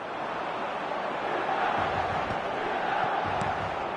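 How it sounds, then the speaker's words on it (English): Crowd applause and cheering from a stadium in an eFootball match, a steady broad wash of clapping and crowd noise throughout at moderate level, with no commentary heard over it. "at least it's earned them a little applause"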